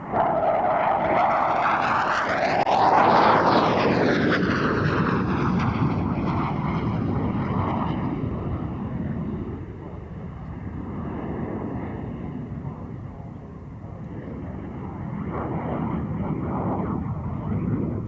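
A French Navy Super Etendard jet flies a display at the 1993 International Air Tattoo, its loud roar sweeping past with a sharp pitch-bending pass near the start, then settling into a sustained rumble that slowly fades.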